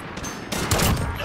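Gunfire from sniper rifles in the video game Rust, with a couple of sharp, loud shot bursts close together in a short span, and no talk.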